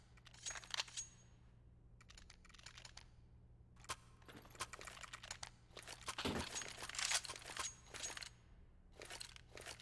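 A computer keyboard clacks in quiet, irregular bursts of typing, each burst a quick run of key taps with short pauses between them, against a low steady hum.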